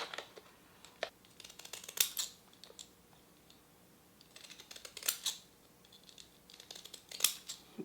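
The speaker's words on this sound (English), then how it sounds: "I'm going to just go ahead and cut some of these out." Scissors snip through paper scraps in short bursts of crisp cuts with quiet pauses between, close by and fairly faint, with no talking.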